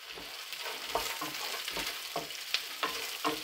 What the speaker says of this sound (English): Then I'm gonna tip in my granules, fry my granules in there.